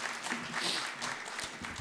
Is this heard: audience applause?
yes